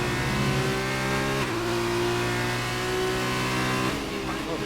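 A Formula 2 race car engine from a racing video game drones steadily at high revs on an out lap, with brief shifts in pitch, loud and continuous throughout.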